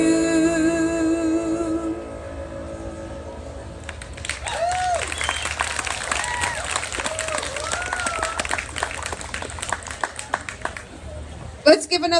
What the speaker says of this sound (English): Let's give another round of applause to Candace.